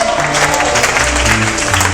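A church congregation erupts in dense, loud applause and cheering, a sustained wash of clapping and voices with low tones humming beneath.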